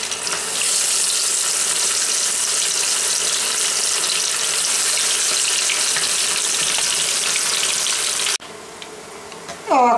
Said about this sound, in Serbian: lagano pržiti uštipke